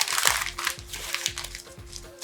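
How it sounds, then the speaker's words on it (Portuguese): A sheet of paper is crumpled by hand in a physics demonstration, giving a steady, close crackling and crinkling with a few soft thumps, with no talk. "se eu amassei o papel"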